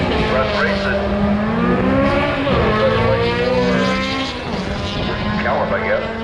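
A VW Golf race car revving and driving at a racing event with time attack and drifting, engine drone rising and falling in pitch, loud and steady throughout, with crowd noise and talk mixed in.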